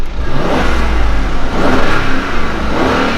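A Mercedes E500 Cabriolet V8 AMG engine revs hard and holds high, with a deep rumbling roar that swells and dips slightly, close and loud.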